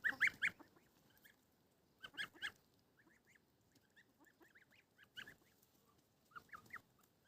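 Goslings on a farm give short, bright honking calls in small bursts, several in a row, then pause before more, fairly close and otherwise quiet.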